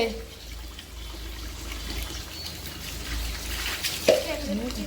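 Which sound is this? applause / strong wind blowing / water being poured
water being poured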